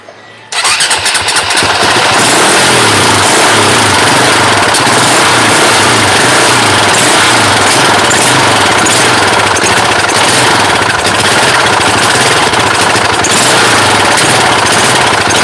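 A 2007 KTM 450 EXC motorcycle engine under repair starts after a brief silence, then runs loud and steady at a rough idle with slight revs for the rest of the time, close by with no talk.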